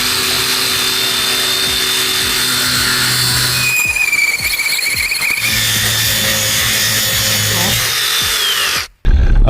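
A DeWalt cordless power tool running on a 9Ah FlexVolt battery cuts through material with a loud, steady whine. It bogs down and rattles in the middle, picks up again, and cuts out abruptly near the end.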